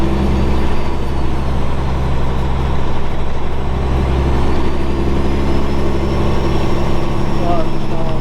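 A truck fitted with an 18-speed transmission runs through its gears, its heavy diesel engine droning loudly and evenly throughout, with a deep low rumble underneath.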